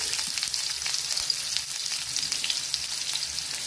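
Onions frying in a pan make a steady, fairly loud, close sizzle and crackle that carries on unbroken with no speech.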